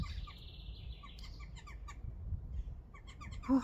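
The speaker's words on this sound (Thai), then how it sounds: "เสียงพี่นกร้องเพลง" Birds chirp and trill in quick repeated notes against a soft, steady background rumble in a backyard garden, fairly distant and faint.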